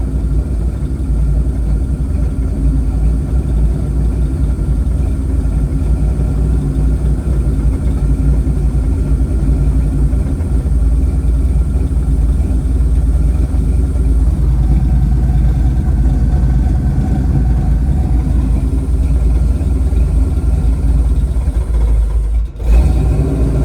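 A 1969 Buick Special Deluxe engine runs loud and close, a steady deep rumble easing down toward idle, with a brief drop near the end.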